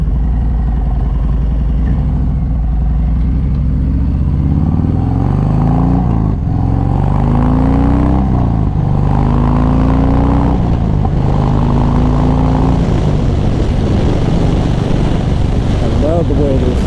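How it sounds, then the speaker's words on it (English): A Harley-Davidson Sport Glide with a Stage 1 Cobra exhaust revs repeatedly, pitch climbing and falling in bursts over a steady loud idle rumble, with a voice talking over it. "I love the way this sounds. So anyways, that's pretty much it. This Cobra exhaust is pretty good."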